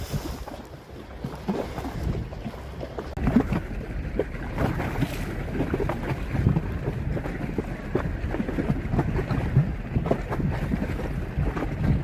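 River water on the tidal Thames between Dartford and Thamesmead laps against a riverside wall below, a steady choppy wash under gusting wind noise, with no one talking.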